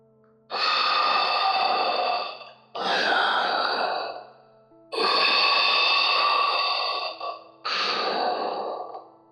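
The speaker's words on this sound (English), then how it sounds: "but hears only heavy and raspy breathing" A silent caller on a phone line breathes heavily and raspily, four long drawn breaths with short pauses between them, close and loud, with no speech.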